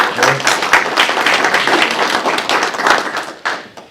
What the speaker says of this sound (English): About a round of applause for Carol.